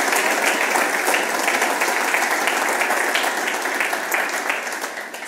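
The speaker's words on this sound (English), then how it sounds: "a huge applause to all the people participating" Steady audience applause fills a room at an Arduino Day community event in Milan, a dense, even wash of clapping that holds for several seconds before tapering slightly.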